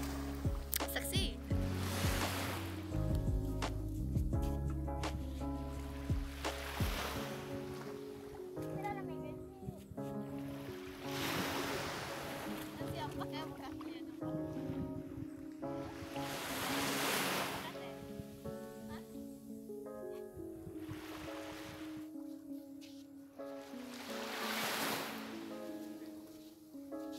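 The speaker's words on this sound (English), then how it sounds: "And finally we are here at the beach." Ocean waves break at a beach in repeated soft, rushing swells, under wind buffeting the microphone, with people talking nearby.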